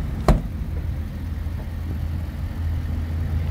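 A 2024 Ford F250 Lariat four-wheel-drive diesel truck idles with a steady low rumble, a single sharp knock near the start and then an even drone throughout.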